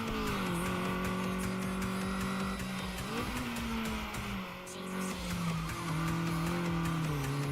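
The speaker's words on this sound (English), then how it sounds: "Is yanking the handbrake to drift wearing out my transmission?" A race car in the Redline Reverie racing game drifting on the handbrake: a steady engine drone with a long, sliding tire squeal that shifts in pitch, loud and continuous throughout.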